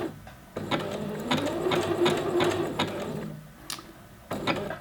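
A sewing machine stitches an elastic waistband in several close, rapid whirring bursts with brief pauses between runs and no talk.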